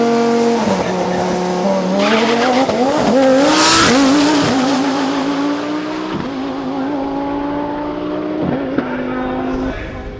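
A street racer car at a street car takeover event accelerates hard, engine revving loudly and climbing through several gear shifts, with tire squeal near the start and a voice talking over the roar.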